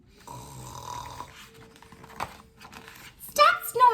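A voice imitates snoring while reading aloud from a picture book, a few drawn-out rasping snores close to the microphone, followed by brief vocal sounds.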